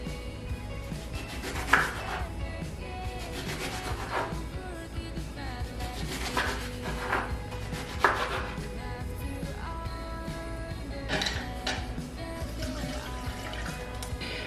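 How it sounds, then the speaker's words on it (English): A knife chopping lemons into small slices on a board, steady close cutting taps with a few sharper knocks, continuing throughout with faint kitchen background. "Here we have our lemons, and I'm just gonna be cutting these into small slices like this"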